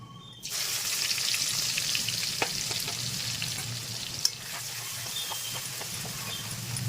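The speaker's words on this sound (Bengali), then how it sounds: "পেঁয়াজটা আমি সুন্দর করে ভেজে নেব" Onion paste frying in hot oil over a tempering of spices for a katla kalia fish curry, a steady close sizzle running throughout with occasional stirring clinks.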